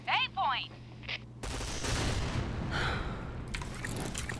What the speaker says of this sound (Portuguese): Ah, Jota, errei dois tiros em tu, viado.